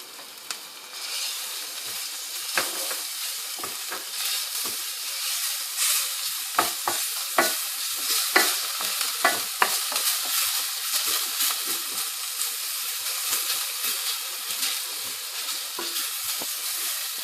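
Ginger garlic paste sizzles steadily in hot oil, a close, continuous crackling hiss with occasional stirring scrapes and pops.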